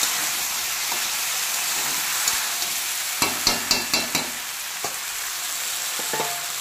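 Vegetable curry with potato, paneer, okra, beans and ginger paste sizzles steadily in a pan, close and loud, while a spatula stirs and scrapes, with a quick series of sharp taps against the metal.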